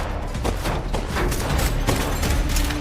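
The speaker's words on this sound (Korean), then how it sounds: "사막 한가운데 정적을 가르던 총성이 울렸습니다." Gunfire in a film scene set in a desert, a rapid burst of several loud sharp shots with rumbling blasts between them, dense and close, with no talk over it.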